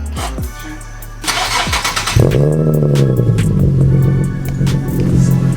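A Nissan 370Z fitted with a new exhaust cranks briefly, then fires into its first startup, the engine catching loudly and settling into a steady, throaty idle for several seconds, close up with no talk.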